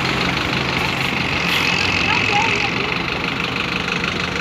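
A Suzantur city bus idles at the Diadema bus terminal, giving a steady low diesel rumble with a faint whine over it. Station bustle carries in the background, and nobody speaks.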